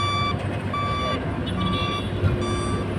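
Steady reversing beeps ring out over a low truck engine rumble as a loader fills a lorry at a busy seaport, the repeated tones continuous through the whole stretch.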